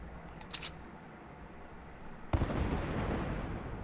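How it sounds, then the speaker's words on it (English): Meteorites striking the map in the video game Fortnite, a couple of brief crackling pops, then a sharp booming impact followed by a sustained rumbling crackle, heard alone without talking. "this map is getting bombarded with meteorites now"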